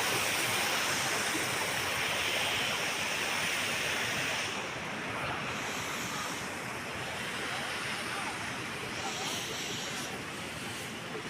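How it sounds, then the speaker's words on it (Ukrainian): Continuous rushing water, broadband and steady, like a stream flowing nearby, with no voices over it. "І тут така вода біжить, біжить."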